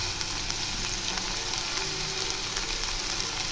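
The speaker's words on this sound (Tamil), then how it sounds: "இப்போ இது கொஞ்ச நேரம் இதை எண்ணெயில் வதக்கிடலாம்" Ivy gourd sautéing in hot oil with salt gives a dense, steady sizzle and crackle up close, constant throughout, with no voices over it.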